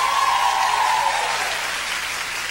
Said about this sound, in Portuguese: Vamos aplaudir Cornélio Procópio.